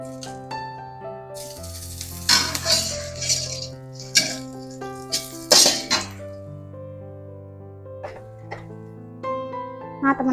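Oil sizzles in a pan in bursts while sambal is cooked, using oil left over from frying fish that morning after eggplant was fried. The crackling rises and falls over a steady tonal background, with occasional utensil knocks.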